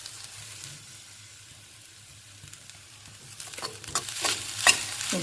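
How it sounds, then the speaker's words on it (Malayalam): Ground spice paste sautéed with salt in a pan for a jackfruit stir fry: a soft, quiet sizzle that builds toward the end with spatula scrapes and stirring clatter close by, no voices. "സ്വല്പം ഉപ്പും കൂടെ ചേർത്ത് അരപ്പ് ഒന്ന് വഴറ്റിയെടുക്കുക."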